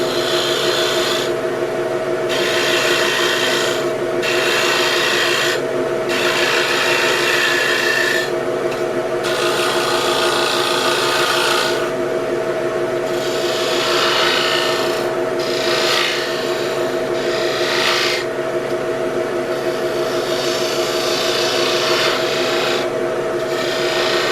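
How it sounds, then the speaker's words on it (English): A spindle gouge forming a tenon on a wine glass stem turning on a wood lathe: a steady, loud motor hum runs throughout under continuous rasping cuts that break off briefly and resume. "So the next thing I need to do is to form a tenon on one side so I can hold it with a chuck. I'll be using a spindle gouge to do that."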